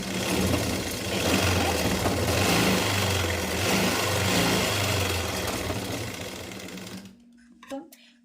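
A sewing machine stitches a sleeve onto a pleated nighty, a fast steady mechanical whirring that runs for about seven seconds before stopping, close and loud, followed by a faint click.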